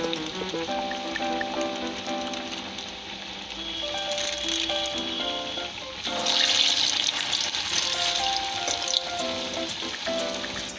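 Chillies frying in hot oil in a home kitchen: a steady, close, continuous sizzle and crackle that grows somewhat louder midway and keeps going without pause.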